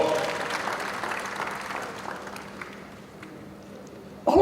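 Audience applause for a policy announcement at a Nigerian CNG event, a steady moderate clatter of clapping that slowly thins and fades over several seconds before a sudden louder burst at the very end.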